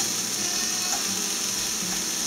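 Turkey breast frying in a pan, a steady close sizzle with faint stirring, continuous and even throughout with no talking.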